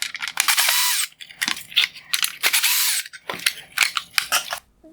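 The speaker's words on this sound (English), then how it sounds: "I will remove the two Phillips head screws holding in the turn signal reflector" Phillips screws being backed out of a 2016-2018 Lexus RX350 LED headlight assembly, heard as close, bursty scraping and ratcheting screwdriver noise in uneven repeated spurts.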